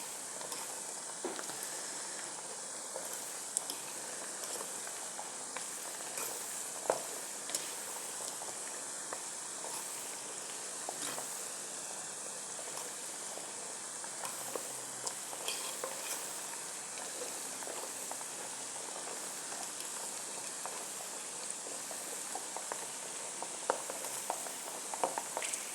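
Almonds frying in a pan, a quiet steady sizzle and hiss with soft crackles and occasional stirring scrapes, continuous and close, no talking.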